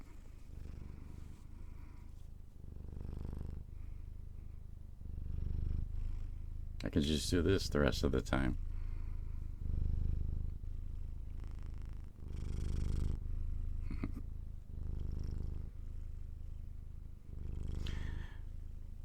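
A laboratory cat purring up close as a low continuous rumble, heard alongside casual talk with a brief burst of sharper noise midway.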